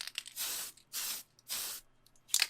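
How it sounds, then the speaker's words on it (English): A rattle can of Tamiya TS light blue paint sprays in three steady, close hissing bursts of about half a second each, separated by short pauses, with a brief final spurt; no voices. "if I've got a rattle can full of the paint, rather than crack open the spray airbrush, I'll use the spray cans instead"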